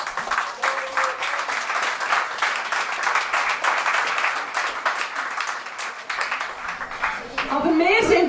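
An audience at a band's anniversary concert at Ranch Holzmatt claps steadily, a lively patter of many hands that continues for several seconds before a voice speaks at the end.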